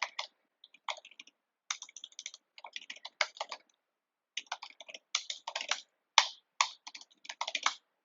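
Bursts of typing on a computer keyboard, fast clusters of clicking keys separated by short pauses, quiet and close with no talking.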